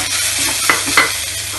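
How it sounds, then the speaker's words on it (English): Loud steady sizzle of a hot pan as garlic goes in for roasted pumpkin soup, with a couple of brief scraping stirs partway through, close up and without voices. "Now I will add garlic"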